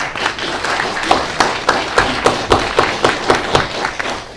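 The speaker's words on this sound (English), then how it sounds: "Let's give him a round of applause." Brief round of audience clapping at a school board meeting, a quick run of sharp, close claps lasting a few seconds.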